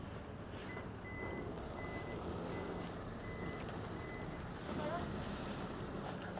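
A newly bought, larger truck reverses with an evenly spaced electronic backup beep repeating over engine rumble outdoors, while a person talks in the background.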